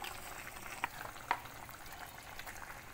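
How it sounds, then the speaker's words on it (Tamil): Snake gourd kootu with cooked lentils bubbling in a pot, a soft steady sizzle and simmer with two brief louder pops or stirs, close and fairly quiet, no talk. "இப்போ நல்லா கொதிக்க ஆரம்பிச்சிருச்சு."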